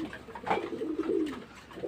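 Domestic pigeons coo close by in a short, soft, throaty burst of warbling calls, with no other sounds over them.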